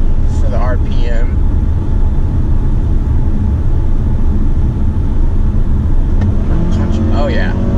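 A 2018 Mazda CX-5 engine held at higher RPM in sport mode gives a loud, steady drone from inside the moving SUV, with road noise and a few faint high chirps.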